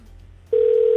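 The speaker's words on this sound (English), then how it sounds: "Your phone only ringing now. Let me try the next number." A steady electronic telephone tone starts abruptly halfway through and holds loud and constant, after a quiet moment of faint background hum.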